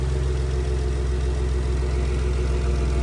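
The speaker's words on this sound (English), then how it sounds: "the idle's coming down, the Jeep's warming up a little bit" A Jeep JK engine idles as it warms up, a loud, close, steady low-pitched rumble with an even mechanical pulse, running alone without any speech.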